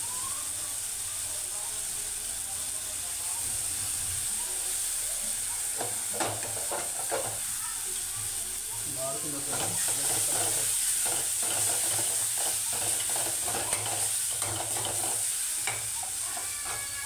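Tomato rice being stirred in a frying pan over a low flame with lemon juice added: steady soft sizzling, with repeated light scraping and clinking strokes of a spoon throughout, and no talk.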